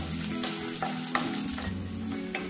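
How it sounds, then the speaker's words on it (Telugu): Peanuts, dried red chillies and crushed garlic sizzle steadily in hot oil while a spoon stirs them, bringing periodic scraping clatters close up, with no voices. "ఇవన్నీ మాడకుండా బాగా కలుపుకుంటూ వేయించుకోవాలి"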